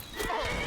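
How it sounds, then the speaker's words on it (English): A horse in the video game Skyrim lets out a short, close neigh that wavers and rises, loud and brief, with no talk over it. "Was that horse there a second ago?"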